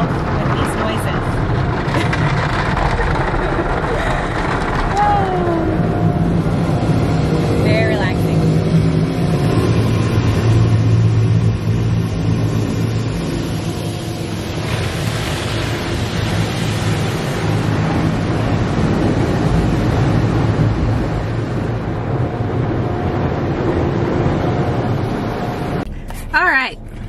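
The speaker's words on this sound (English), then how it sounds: "Car wash sounds and colors" An automatic car wash runs steadily around a car, a dense, loud wash of spraying water and machinery humming and rumbling continuously, with no one talking, until it cuts off abruptly near the end.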